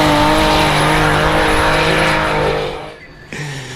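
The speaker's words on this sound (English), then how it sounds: "Up now, Steve McConnell, another awesome sounding car with a fantastic exhaust manifold on it." A drift car with a fantastic exhaust manifold at a British Drift Championship round revs loud and close, a harsh sustained engine roar with tyre noise that cuts off abruptly near the end before a brief lower rumble returns.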